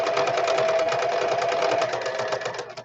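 A sewing machine stitches across fabric for a custom-sized traveler's notebook, a loud, close, continuous whir that slows slightly at the end.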